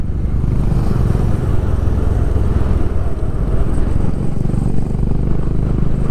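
Honda CB350 motorcycle riding through winding hill roads, a steady, loud low engine drone with continuous wind rush throughout, no voices.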